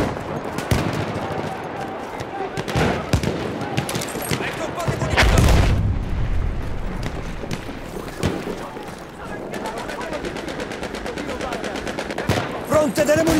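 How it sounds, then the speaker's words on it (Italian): Gunfire and a grenade blast ring out in a Battlefield 1 Domination match, with rapid bursts of automatic fire throughout and a heavy low boom midway, under shouted voices. "Granata partita! Tenete giù la testa!"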